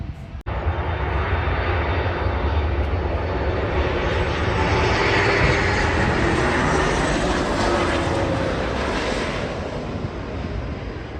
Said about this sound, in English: let's get out of the car and let's have a look at some planes.